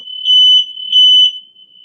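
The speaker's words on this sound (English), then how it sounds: "The smoke detector." A smoke alarm sounds its high, piercing tone steadily, swelling into two louder beeps in a row, with no one talking.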